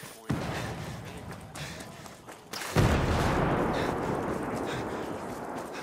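Mortar fire lands in Ghost Recon with a sudden loud boom near the start and a second, heavier explosion a little later that rumbles on, heard among game noise with voices.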